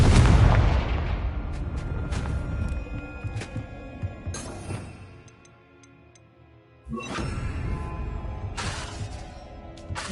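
Confringo fire spell explodes in Hogwarts Legacy with a heavy boom and crackling debris that fades out, followed by a second burst of blasts later on.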